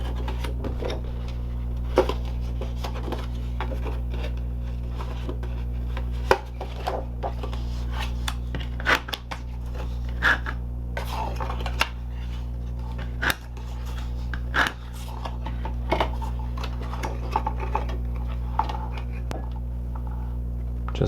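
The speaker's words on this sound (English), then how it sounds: "fold and burnish the score lines on the outside box piece" Paper score lines on a card box being folded and burnished, soft scattered creasing and rubbing strokes with occasional sharper taps over a steady low background hum.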